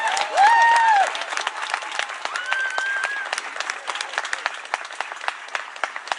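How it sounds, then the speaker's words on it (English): Crowd applause greeting Congressman John Lewis at a Durham march gathering, a sustained broad wash of clapping with brief whistles and voices rising over it early on. "Can you give him a round of applause"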